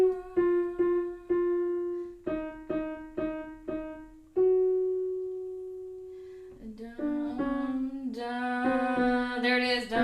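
A piano plays a short holiday melody shifted into its relative minor, with single clear notes struck one after another, then fuller, denser chords toward the end, played alone without any talk.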